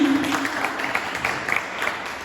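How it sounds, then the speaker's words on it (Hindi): Audience applause at a family reunion gathering, a short burst of steady clapping from a crowd, fairly close and even in level. "मैं शरद जी के लिए एक बार जोरदार तालियां चाहती हूँ।"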